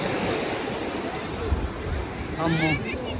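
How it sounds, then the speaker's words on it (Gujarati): Sea surf rolls steadily along the beach at Dwarka in Gujarat, a continuous wash of waves mixed with wind noise, and a brief bird-like call or voice sounds near the end. "આ જોવા મોટો દરિયો પાછળ"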